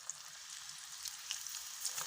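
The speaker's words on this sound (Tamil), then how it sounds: "இப்போ வாங்க இதை ஆயிலில் ஃப்ரை பண்ணி எடுத்துக்கலாம்" Cashew pakoda frying in hot oil, a steady soft sizzle with scattered small pops and crackles, fairly quiet and continuous throughout.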